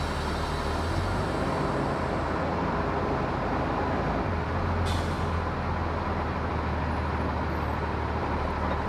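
A school bus is brought to a stop with the service air brake during an air brake test. A loud, steady engine and road rumble carries on throughout, with a brief sharp hiss of air near the middle.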